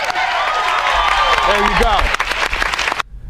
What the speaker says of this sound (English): so applaud them